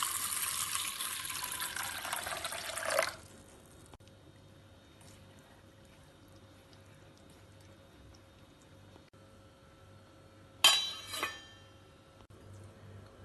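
Water pours steadily into a bowl of split moong dal to soak it, a close, rushing stream lasting about three seconds. After a quiet pause, a brief splash and slosh follows.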